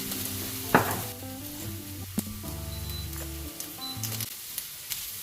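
Carrots fry in a pan with green chillies and chilli powder, giving a steady sizzle broken by a few sharp scrapes and knocks of a utensil, close and fairly loud with no talking.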